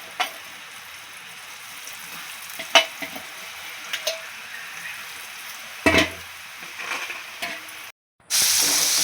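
French fries sizzle in hot oil with a soft, steady bubbling hiss, broken by occasional clinks and stirring scrapes, then a brief silence and a louder burst of frying at the end.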